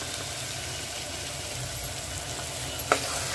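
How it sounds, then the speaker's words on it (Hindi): String beans frying in oil give a constant broad sizzle and hiss heard close, with a single brief clink near the end and no talk. "अभी थोड़ा फ्राई हो रहा है"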